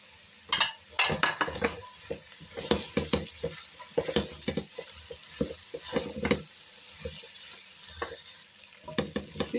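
Vegetables for a mixed vegetable soup, including potato, celery and cauliflower, sautéing with flour in a pot, with repeated scraping stirs and clinks of a spoon over a soft sizzle.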